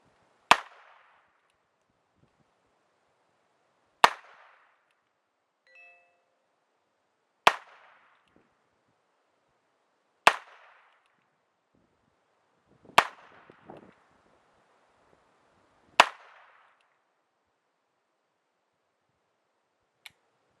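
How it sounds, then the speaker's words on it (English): Six revolver shots fired at a ball target outdoors, sharp loud cracks spaced roughly three seconds apart, each followed by a short fading echo, with a faint clink between shots. "We're going to go ahead and do some shooting and see how we do here."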